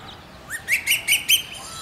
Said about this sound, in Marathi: कोकिळेचा आवाज हा असा